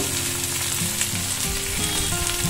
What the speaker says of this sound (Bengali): তো আরেকটু ভাজা হোক ভেন্ডির মধ্যে এবার আমি দেবো